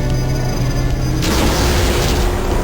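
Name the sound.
3D explosion effect in video game Duke Nukem 64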